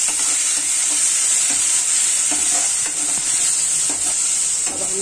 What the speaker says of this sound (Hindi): इसमें डालेंगे ये लहसुन अदरक का पेस्ट, इसे भी अच्छे से हम भूनेंगे